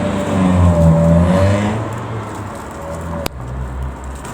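A car passes on a main road running beside a house in Hungary, a loud, broad engine and tyre rush that swells early, then fades into a steady low hum.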